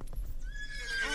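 A horse in the GTA Medieval video game gives a rising whinny over steady hoof clip-clops, moderately loud with an ongoing low background rumble.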